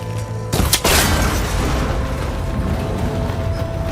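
A single loud gunshot strikes and breaks a cable connector in Horizon Forbidden West, a sharp boom followed by a rumbling, ringing tail, with no talk.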